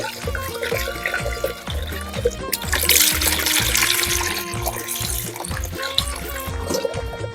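Coolant leaks and trickles from a radiator on a budget drag car, dripping and splashing in a busy burst that swells loudly midway, with mechanical clatter underneath.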